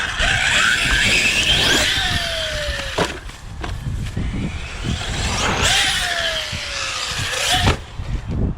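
An ARRMA Kraton 6S RC car whines and bounces around an abandoned dirt BMX track, its motor pitch sliding down twice between sharp impact thuds from jump landings, with constant gritty scrabbling of tires throughout.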